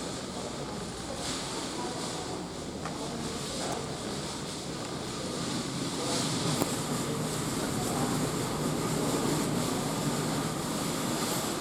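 South Western Railway five-car train departing Basingstoke station, a steady broadband rumble and hum of traction and wheels that builds slightly in loudness over about twelve seconds, heard close from the platform with faint talk.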